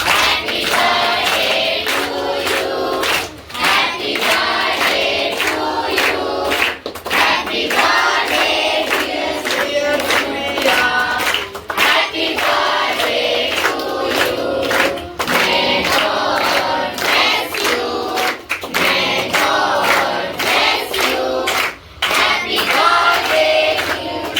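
An audience of students at a school celebration for Class 10 success claps along to a song in a steady fast rhythm, loud and continuous dense hand claps throughout.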